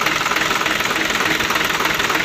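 A Hino 500 truck diesel engine idles after its injection pump seals were replaced, giving a loud, steady, close-up rattling drone that runs alone without pause.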